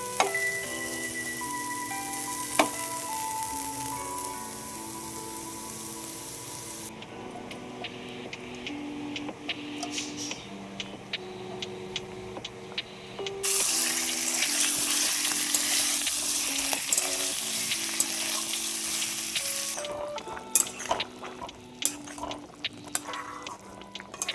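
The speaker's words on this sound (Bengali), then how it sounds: "ডালের সঙ্গে খাওয়ার জন্য একটুখানি আলু ভাজা" Steady sizzling of potatoes frying in a pan, with a brief quieter stretch midway before the sizzle rises again, loud and close.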